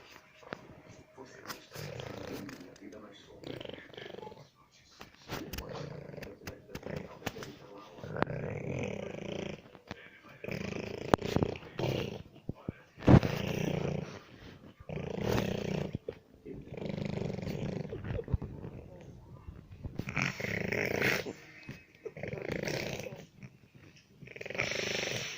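A young girl imitates her father's snoring, making rough, rasping snore sounds in repeated bursts with short pauses between them, close and fairly loud, while other people talk and laugh around her.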